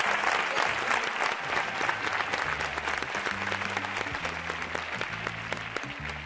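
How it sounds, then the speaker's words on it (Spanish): A studio audience at a Spanish television game show in 1993 gives a sustained round of loud, even clapping that carries on throughout with only a slight easing at the end. "Un aplauso fuerte para ella."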